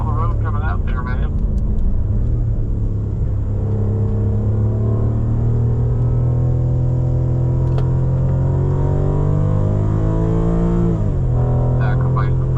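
A BMW M5 holds a steady, loud engine drone at partial throttle through a fast track chicane, its pitch rising and dipping slightly, with a voice talking over it.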